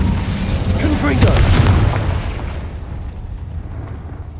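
A Confringo fire spell in Hogwarts Legacy lands with a loud, close booming blast that rumbles and fades over a few seconds, with a voice overlapping.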